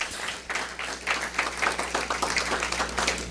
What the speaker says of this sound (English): Come on, give them a great hand clap.